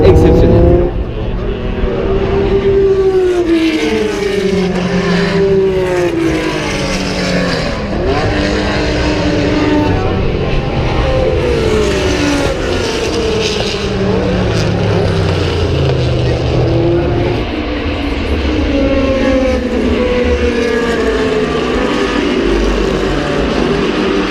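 Loud classic race car engines, including AC Cobra and Ford GT40, roar and whine as cars speed past at Le Mans Classic 2018, pitch sweeping up and down, while a voice talks over the constant noise.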